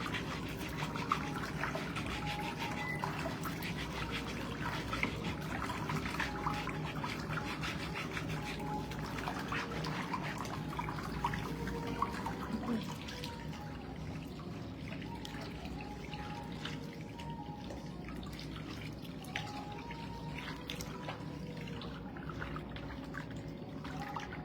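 Water pouring steadily from a tap, a continuous trickling stream heard close and fairly quiet, with a slight change in tone about halfway through and no speech.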